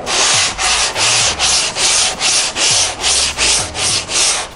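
Steady rhythmic strokes of 150-grit sandpaper rubbing across the hull of a racing shell during a small repair, about nine even back-and-forth passes, loud and close with no talking.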